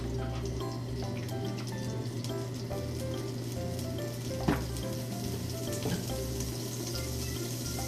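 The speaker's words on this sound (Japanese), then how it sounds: "バターで炒めたら美味しいそうなので、バターでやってみましょう" Napa cabbage and fried tofu sizzle steadily as they stir-fry in butter, a continuous close crackle and hiss with light scraping and drips, holding at an even level throughout.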